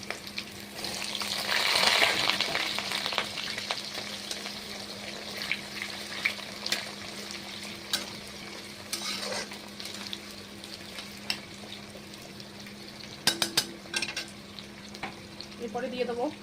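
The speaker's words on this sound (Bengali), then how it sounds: "পেঁপেটা দিয়ে দেবো।" Chopped papaya stir-fried in a wok over tempered five-spice and dried red chillies for a Bengali papaya ghonto, giving a steady sizzle and frying hiss with occasional stirring scrapes and clinks, loudest near the start and fading to a gentler crackle.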